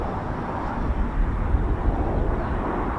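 Red Arrows aerobatic jets taxiing at RAF Waddington, a steady distant jet-engine rumble and whine that holds evenly throughout with no voices.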